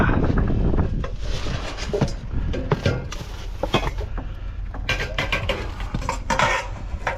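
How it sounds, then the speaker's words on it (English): Pots, pans and other metal kitchenware clank and rattle while being rummaged through in a dumpster outdoors, a series of close, irregular metallic knocks over steady wind noise. "Take some pots and pans."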